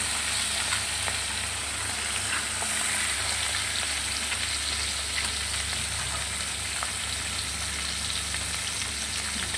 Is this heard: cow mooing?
no